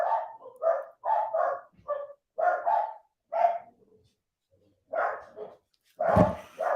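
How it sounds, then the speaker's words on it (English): Several dogs bark excitedly in rapid, bursting clusters, with yips and short pauses between volleys, fairly close and loud with no talk over them. "See the dogs going nuts."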